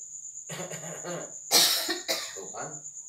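Several coughs in a row, one louder burst near the middle, with a steady high electronic whine running underneath the whole time.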